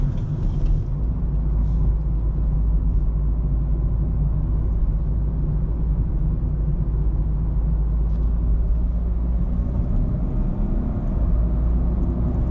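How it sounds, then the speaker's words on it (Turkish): Renault Clio 1.5 dCi diesel with EDC automatic gearbox pulling uphill in first or second gear, a steady low droning engine rumble heard from inside the cabin, constant and fairly loud throughout with no talking. "İşte birinci, ikinci viteste yokuş çıkarken falan alıyorsun sesi."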